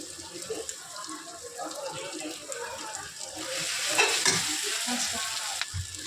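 Chow mein noodles hit hot oil in a pan and fry with a steady, close sizzle, with occasional stirring scrapes; the frying swells louder partway through.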